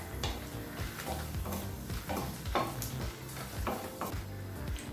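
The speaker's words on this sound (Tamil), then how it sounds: "மிளகாயை ஸ்லோலே வச்சு லேசாக வதக்கிக்கோங்க." Green chillies sauté slowly in a pan for a peanut tomato chutney, giving a soft, steady sizzle broken by occasional scrapes and clinks of a stirring utensil against the metal.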